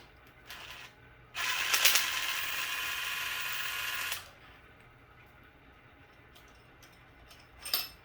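Ratchet clicking while guide bolts are backed out of a BMW N55 cylinder head, with a dense rapid burst of ratcheting for about three seconds, then quieter workshop handling and a brief click near the end.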